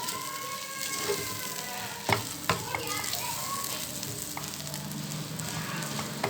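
A chicken kheema mixture stirred together with idli dosa batter in a pan, with soft continuous sizzling and a few sharp spoon knocks against the vessel, close and steady.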